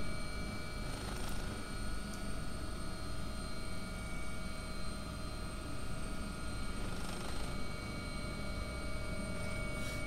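Simulated AW-139 helicopter in X-Plane 11, a London air ambulance, with its second engine spooling up: a steady, fairly quiet turbine whine with fixed tonal hums over a constant low rumble, with no talk.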